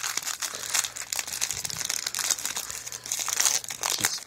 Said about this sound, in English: Open up our promo pack.